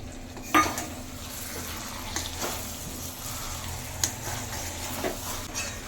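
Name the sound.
frying and stirring mutton with potatoes and fat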